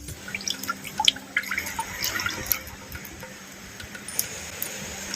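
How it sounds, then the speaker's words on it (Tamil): Groundnut oil poured into a heated clay pan while making jaggery appam for Karthigai Deepam, giving soft, close trickling and faint sizzling crackles with small drips, fairly quiet and steady with no talk. "மண்கடை நல்லா காய்ச்சிருச்சு தேவையான அளவு கடல் எண்ணெய் சேர்த்துக்கிறேன்"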